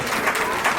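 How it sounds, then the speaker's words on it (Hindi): Audience applause for a young girl at a Jain temple event in Delhi, a brief burst of many hands clapping, steady and fairly loud throughout. "एक बार जोरदार ताली से इस बच्ची का अभिनंदन करें"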